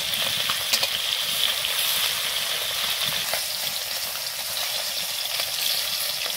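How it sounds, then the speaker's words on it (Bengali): Fish lightly frying in a pan of hot oil, giving a continuous, even sizzle with occasional small pops and no speech. "মাছটা আমি হালকা ভেজে নেব, বেশি ভাজবো না।"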